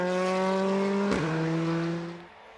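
A rally car crosses from gravel onto tarmac on a New Zealand rally stage, its engine droning loud and steady with a sharp gearshift dip midway, then fading as it pulls away.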